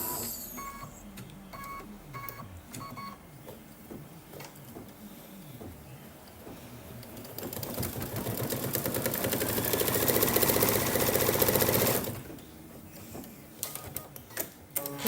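Sewing machine stitching the leaf placement line on a Kimberbell mug rug: light mechanical ticks, then a loud, dense, continuous whirring run of stitching for several seconds that stops abruptly, followed by a few quiet clicks.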